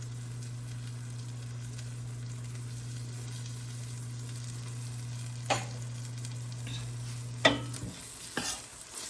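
Flour sprinkled into a pan and stirred while cooking for a French onion chicken casserole: a soft, steady sizzle under a low hum, with a few brief scraping stirs toward the end, fairly faint and with no voices.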